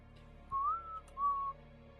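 Two short whistled notes from a person, the first rising and the second held steady, clear and fairly close over a quiet low hum.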